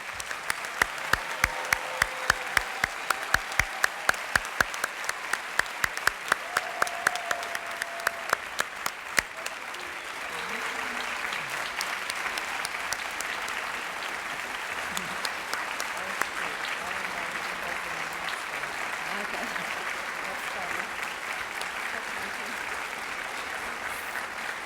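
Audience applause for seniors at a school academic achievers ceremony opens with sharp, distinct close claps, then swells into broad, steady crowd clapping that continues evenly to the end.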